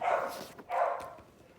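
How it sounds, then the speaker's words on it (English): A dog barks twice indoors, two short muffled woofs in quick succession, moderately faint and heard in the background. "Sorry, my dog's barking."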